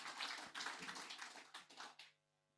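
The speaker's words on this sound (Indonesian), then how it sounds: "Tepuk tangan bagi yang percaya nerima mujizat." Congregation at a home worship service clapping in a short, faint burst of several rapid claps, which stops abruptly.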